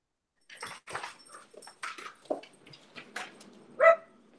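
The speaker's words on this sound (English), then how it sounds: "I'm trying to get the dogs situated, let them out." Dogs bark, yip and whimper indoors in a run of short bursts, fairly close, ending with one louder bark.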